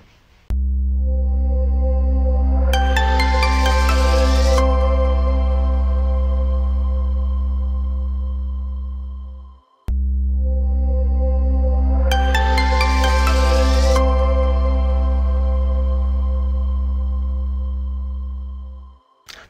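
A phone ringtone during an outgoing call in a drama episode set among doctors, sounding as two long, loud ringing cycles with a steady low tone and a bright rising melodic burst, each ending before the next begins, with no talk.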